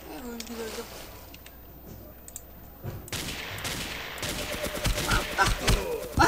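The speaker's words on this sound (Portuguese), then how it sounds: "Eu acerto dois tiros de rifle na cabeça do cara e o cara não morre" Rifle shots and bursts of gunfire from the video game Ace of Spades, a cluster of sharp cracks building in the second half over game ambience, with a voice talking earlier.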